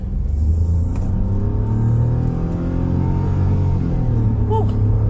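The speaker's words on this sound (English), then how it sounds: "It's almost like there is a whining sound, like it's almost like turbo sound" A 2020 Nissan Almera Turbo pulling hard in sport mode, a low engine rumble building steadily from inside the cabin, with a faint thin whine riding above it and a brief chirp near the end.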